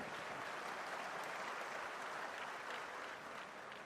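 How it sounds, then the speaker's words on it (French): Sustained applause from a seated audience at a formal development-bank event in Senegal, steady and dense throughout, with no voices rising above it. "Applaudis pour le jeune"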